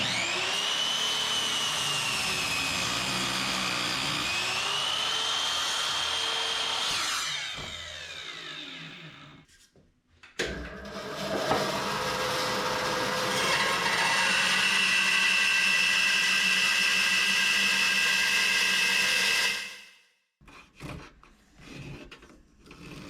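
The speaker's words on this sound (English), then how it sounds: "So we're going to chop this thing up and waste a whole bunch of wood right now" A power tool cuts a wood block for a copper Telecaster guitar body, with two long loud whining passes, each ending abruptly, and a short pause of handling noise between them.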